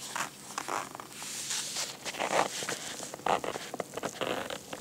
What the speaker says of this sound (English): Nice zipper too.